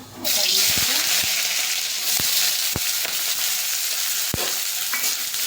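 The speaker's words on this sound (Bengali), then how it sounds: "পেঁয়াজটা একটু লালচে করে ভেজে নিয়েছি।" Chopped medium-sized onions fry in a pan until reddish, a steady close sizzle broken by a few sharp stirring knocks.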